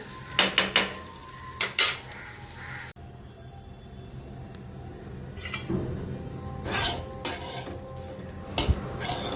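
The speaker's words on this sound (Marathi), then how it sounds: "त्यासाठी बनवते मी कॉर्न भाजते" Corn roasts in a pan with a soft, intermittent sizzle, interrupted by sharp metallic clinks and scrapes of a utensil against the pan.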